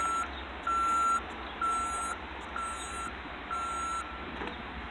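A dirt truck backs in, its reversing alarm giving five loud, evenly spaced beeps over a steady engine rumble.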